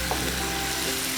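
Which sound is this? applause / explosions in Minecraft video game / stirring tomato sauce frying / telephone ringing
stirring tomato sauce frying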